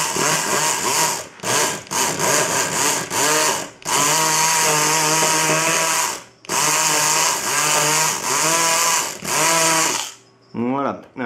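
Electric lock pick gun working on a lock cylinder, a loud close buzzing motor whine running in repeated bursts with short pauses, ending in a few quick higher-pitched pulses.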